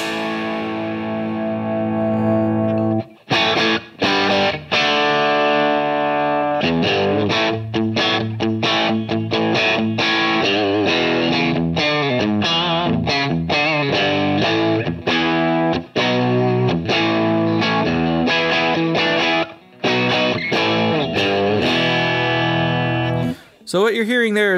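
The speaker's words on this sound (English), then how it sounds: "what you're hearing there is nothing but output section distortion" A guitar amplifier driven hard so its phase inverter and output tubes distort, playing a long run of loud, fuzzy, sustained notes and chords with brief gaps, close and alone without talking.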